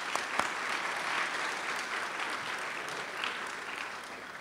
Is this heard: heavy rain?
no